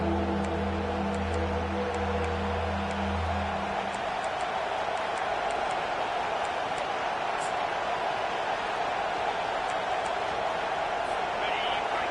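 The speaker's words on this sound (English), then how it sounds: "Decibels rising as the crowd gets behind this defense on 3rd down" A stadium crowd roars steadily for the defense on a third-down play at a football game, a dense wash of cheering that holds throughout, with a low horn-like tone sounding early on.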